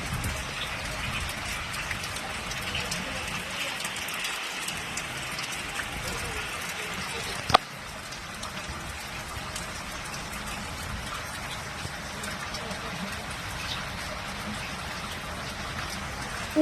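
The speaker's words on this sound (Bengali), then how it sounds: "কত নাই বৃষ্টি হচ্ছে বাইরে" Morning rain falling outside a home, a soft, steady hiss of drops with one sharp knock partway through, faint and continuous.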